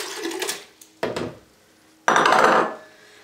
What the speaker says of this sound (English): I like to put the dates in the blender first.